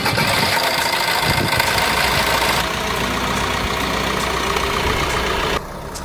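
A Suzuki Ertiga's diesel engine idles with a steady, gruff clatter and a low rumble, heard close and fairly loud and continuous, easing slightly in level toward the end with no speech.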